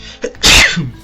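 A single sharp, loud sneeze bursts out close by, preceded by a short intake of breath and trailing off into a breathy tail.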